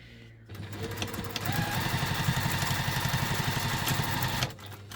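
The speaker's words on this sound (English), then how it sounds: "we are going to sew those together with the seam allowance stated in the pattern" Sewing machine stitching fabric pieces together at a set seam allowance, a steady fast mechanical chatter that starts after a brief pause, runs continuously for about three seconds at close range, then stops.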